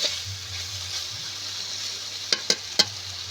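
White eggplant fries in a pan with a soft, even hiss, and three sharp utensil clacks land in quick succession near the end.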